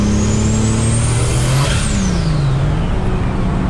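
A 600 hp turbocharged VR6 car engine revs under boost, a loud continuous roar whose pitch climbs and then falls, with a high turbo whistle sweeping up and back down over it.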